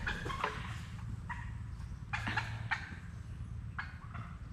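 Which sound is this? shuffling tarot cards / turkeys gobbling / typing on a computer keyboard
turkeys gobbling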